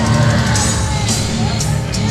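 An MMA fight crowd yelling, whooping and cheering in a steady, loud wash of many voices in an arena, with a few brief louder shouts rising above it.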